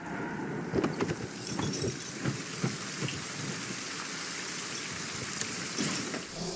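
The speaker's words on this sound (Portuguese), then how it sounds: "Uma chuva dessa, gente." Heavy rain pours in a film scene. A steady hiss of downpour is broken by scattered sharp drops and a low rumble of thunder, heard at moderate distance with no talk over it.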